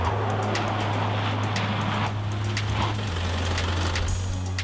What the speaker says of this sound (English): The vehicle's much more direct under turning, and it allows us to avoid the obstacles with ease.